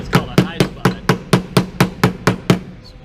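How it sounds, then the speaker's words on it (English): A body hammer strikes a dented car body panel in a repair shop, ten sharp metallic taps in an even, brisk rhythm, close and clear. "Now I'll also take my body hammer"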